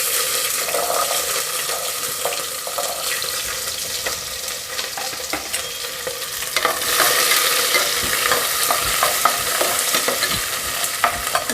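Onion and garlic sauté in oil in a pan for bisi bele bath, a close, hissing sizzle broken by spoon scrapes and stirring, growing louder and brighter partway through.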